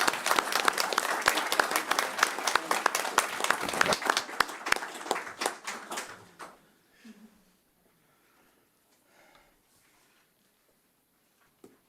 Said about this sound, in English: Can we clap now? Absolutely.